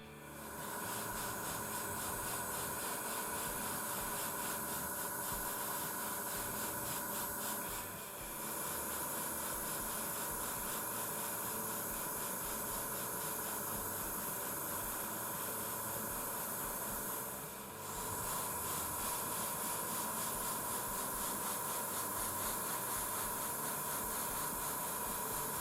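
An airbrush spraying RLM 70 dark green paint onto the spinner of a 1/48 Eduard Bf-109 E-7 Tropical model gives a steady, close, continuous hiss with two brief dips, and no talking.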